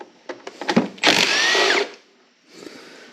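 Power drill backing bolts out of a Troy-Bilt lawn mower cover, with a few short clicks and taps, then a close whirring spin lasting under a second, and a fainter mechanical rattle afterward.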